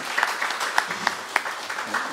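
Church congregation clapping to welcome a first-time visitor at a Sunday service, a moderate, fairly soft patter of applause with a few sharper claps standing out.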